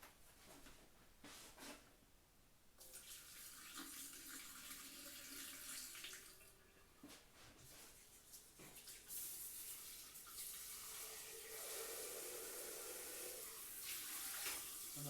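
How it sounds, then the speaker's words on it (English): Tap water runs steadily into a sink while a plastic pitcher is rinsed, a continuous close splashing hiss that shifts in pitch as the pitcher fills and empties, with occasional knocks. "I'm doing a good job at just rinsing it"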